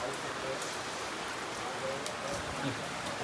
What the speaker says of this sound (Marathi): बाहेर पाऊस आहे.